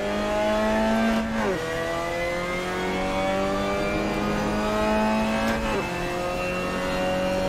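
A Mazda MX-5 revs hard on the Sepang race circuit, a loud close engine note climbing steadily through the gears, with two quick drops at gear changes before the tone rises again.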